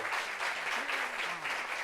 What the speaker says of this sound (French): Applaudissements pour Stéphanie, s'il vous plaît